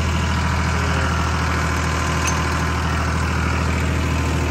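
A New Holland tractor in first medium gear hauls a trolley loaded with paddy, its heavy engine holding a loud, steady, close drone with no break and no voices.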